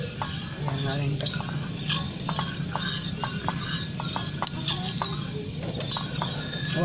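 A utensil stirs food in a small multipurpose wok, giving a run of scraping and light metallic clinks against a soft background hiss.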